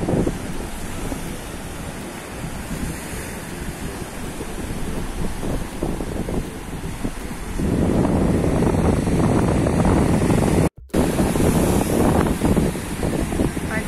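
Surf rumbles and washes continuously on a beach in Spain while wind buffets the microphone, growing louder partway through and briefly cutting out.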